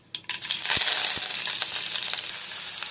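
Loud steady hiss of mustard seeds, cumin and curry leaves frying in hot oil in a kadai, with sharp popping crackles scattered over the sizzle.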